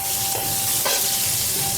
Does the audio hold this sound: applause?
no